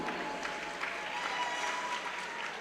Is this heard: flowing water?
no